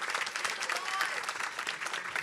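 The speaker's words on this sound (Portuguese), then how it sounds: "Pessoal, uma salva de palmas aos nossos representantes." Audience applause for panel representatives at a port logistics and foreign trade forum in Rio de Janeiro, a brief, steady burst of many hands clapping at moderate volume, with possible voices mixed in underneath.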